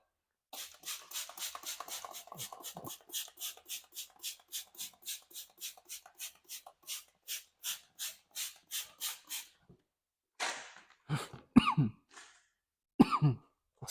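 A long run of regular, evenly spaced coughs repeating for about ten seconds, then a short pause and a few harsher, irregular coughs and throat clears near the end.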